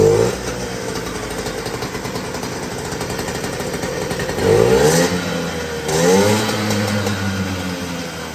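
A 1985 Puch Maxi Sport LS-2 moped engine, newly started for the first time, runs with a buzzy, rapid two-stroke putter close by and rises in two short revving blips before dropping back to idle.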